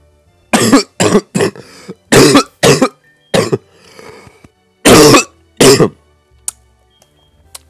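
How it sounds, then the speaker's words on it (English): A series of harsh coughs in short bursts, some clustered in quick pairs, with brief pauses and a softer throat-clearing rasp between them, close and loud. "Kind of coughing a bit today."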